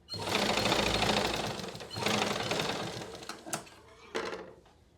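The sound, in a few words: sewing machine stitching blouse fabric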